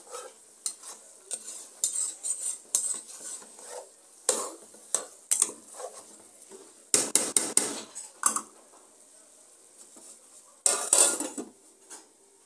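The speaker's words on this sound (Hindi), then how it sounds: "ये कर रहे हैं करीम साहब भुनाई आलू और सुहाजने की।" Potatoes and drumsticks roasting in a pot, stirred with metal utensils: irregular clanks and scrapes against the pot over a faint sizzle, with sharp clusters of utensil strikes at moments.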